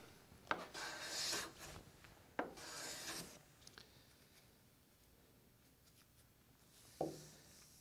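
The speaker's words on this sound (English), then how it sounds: "To plane this board, we're simply going to start on the left-hand side and move our way across to the right" Veritas bevel-up hand plane drawn across a wooden board in two long shaving strokes, each a broad rasping swish, followed by a quieter pause and a short final scrape near the end.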